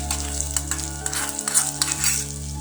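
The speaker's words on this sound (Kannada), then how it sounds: "ನೋಡಿ, ಕುದೀತಾ ಉಂಟು." Poha pongal bubbles and sizzles in a pot on the stove, a close, steady crackle with brief clinks of a spoon stirring, over a constant low kitchen hum.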